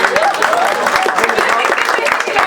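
Applause for the host at a poetry gathering, the Abhivyakti Mehfil, comes as dense, steady clapping from a sizable audience, close and loud throughout with a voice faintly mixed in.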